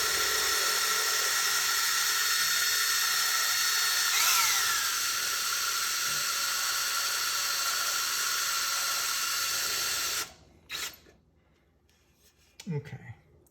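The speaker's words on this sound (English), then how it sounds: "So now we can just go ahead and drill through here." A high, steady power drill whines loudly for about ten seconds drilling through an amplifier chassis panel, pitch dipping briefly as it bites, then stops, followed by light handling noises.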